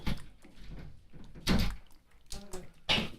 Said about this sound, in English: I hope you can hear them running into the doors